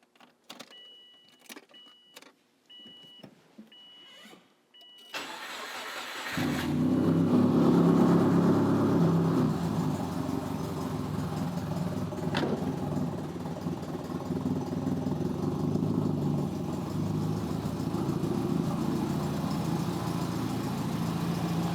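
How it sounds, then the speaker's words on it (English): A 2004 Subaru Impreza Outback Sport with a loud exhaust and a fault that stops it taking throttle: a few light clicks and rattles in near silence, then the engine cranks and fires and settles into a steady, loud, close idle. "So let's go ahead and start the car up and see what we get."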